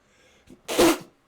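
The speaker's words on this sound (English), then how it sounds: "so I gotta sneeze" A single sharp sneeze with a brief sharp intake of breath just before it, loud and close, then quiet.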